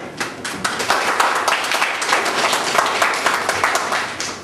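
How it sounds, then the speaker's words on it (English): Audience members at a Nigerian community gathering clap steadily and fairly close, a busy patter of hands that holds at even strength for several seconds without talk. "Can somebody give applause to that?"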